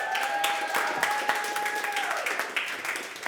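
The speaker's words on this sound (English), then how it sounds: "I want to give another huge round of applause to our hosts, Mr. Wah and Warning Track." An audience at a Mario Summit event applauds the hosts with steady, moderately loud clapping, while a sustained whistle-like tone runs underneath for the first couple of seconds.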